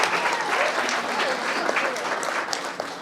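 A crowd at a Vice President Pence event for military families applauds servicemen and women, with continuous even clapping throughout and a faint murmur of voices beneath it.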